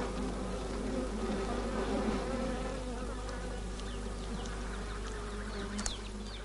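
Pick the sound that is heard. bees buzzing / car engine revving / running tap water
bees buzzing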